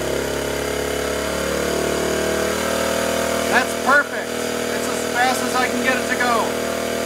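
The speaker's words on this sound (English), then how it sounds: "Now I'm going to slow the idle down to where I want it." A Honda CT90 Trail 90 motorcycle engine idles steadily throughout while its carburetor is tuned, a continuous close hum beneath someone speaking in the second half.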